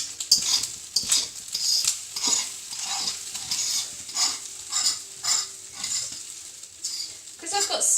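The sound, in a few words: stirring rice into egg in a frying pan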